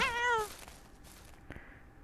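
A single short cat meow at the start in the video game Ranch Simulator, fairly close, followed by quiet background noise and a faint click.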